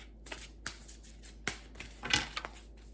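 Tarot cards are shuffled close by in several quick riffling bursts separated by short pauses, crisp and papery against a faint low hum.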